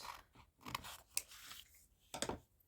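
Scissors trim paper for a handmade Christmas decoration, making a few quiet, close snips and crisp paper cuts spaced apart in a hushed room.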